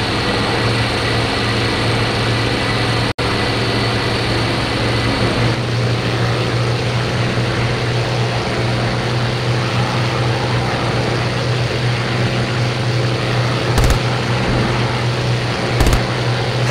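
Spitfire and Bf 109 piston fighter engines in a flight sim video game, a loud continuous droning hum holding steady throughout, with a couple of brief sharp clicks near the end.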